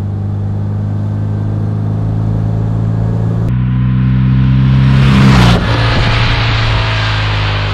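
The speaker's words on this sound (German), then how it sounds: "Der rauscht hier richtig nach oben." A Speedster sports car accelerates hard up a steep slope, its engine drone rising in a loud, sustained rush that builds to a peak and then settles, with no talking.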